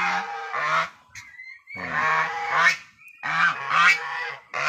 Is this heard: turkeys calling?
yes